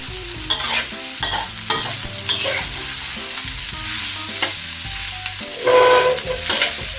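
Thai shrimp fried rice with Hong Kong kale is stir-fried in a pan, the spatula clanking and scraping in quick, irregular strokes over a constant loud sizzle, heard up close with no talking.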